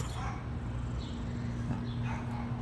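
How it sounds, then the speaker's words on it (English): A dog makes odd throaty, wheezing snorts like an old person clearing its throat, with heavy breathing close by under a steady indoor hum and no speech. "She sounds like an old lady clearing her throat"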